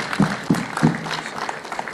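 A short burst of clapping from a small congregation at a funeral mass, honoring a woman called maman Honoré, with a few distinct claps standing out against a soft, reverberant crowd background.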